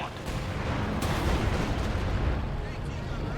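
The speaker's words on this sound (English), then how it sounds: "This gun is firing on the KT." A gun fires on a King Tiger tank amid battle in the WWII strategy game Company of Heroes 2, a continuous loud roar of blasts and rumbling with a commentator talking over it.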